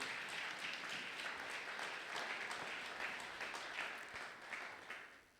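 Congregation applauding during a Sunday worship service in a church, steady dense clapping from many hands that holds throughout and tapers slightly at the end.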